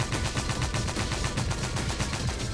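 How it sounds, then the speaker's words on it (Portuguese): Rapid volley of cannon blasts from several guns in a Mega Man manga dub sound effect, a dense, steady stream of loud bursts with no pauses. "Ele revela vários canhões em sua Time Stopper, fuzilando todos eles"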